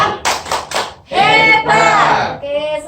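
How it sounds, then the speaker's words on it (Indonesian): A group of adults at a community family-finance session perform a rhythmic cheer clap: three sharp claps in quick succession, then a chanted shout, with voices prominent throughout. "Tepuk hebat."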